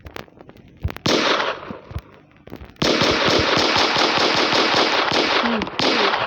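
Gunfire in the Roblox game Brookhaven RP, loud rapid machine-gun style bursts, one short burst followed by a long sustained stream of shots.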